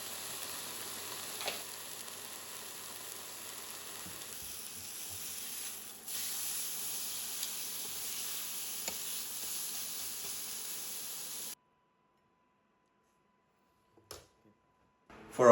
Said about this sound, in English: A bit of chili flakes on top, nice and hot pan, 4 to 5 minutes sear on each side.